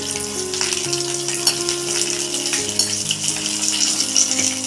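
Cashews, raisins and dry coconut sauté in hot fat in a pan, a steady close sizzle with light stirring scrapes over faint background music.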